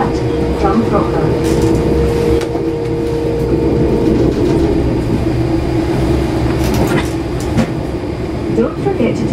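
Class 385 electric train, unit 385046, running on the Glasgow Central to Wemyss Bay line, a steady rumble and hum with faint clatter throughout, heard from inside the carriage under an automated announcement voice.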